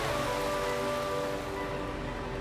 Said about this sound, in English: The raindrops sound very nice.